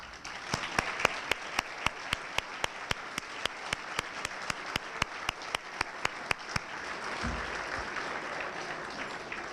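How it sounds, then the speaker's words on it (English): Rhythmic, evenly spaced claps ring out in a large hall at a chamber of commerce winter ball gala, loud and steady before fading into a softer room hum near the end. "Please stand and receive a round of applause for all of your work"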